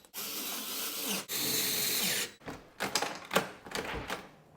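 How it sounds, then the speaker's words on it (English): A power driver sends a couple of screws into a door while a Eufy S230 smart deadbolt is mounted. Two sustained, close buzzing bursts are followed by lighter rattling and clicking as the driver stops. "now we just got to bolt that in, a couple screws"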